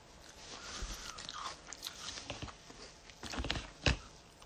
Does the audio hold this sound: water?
no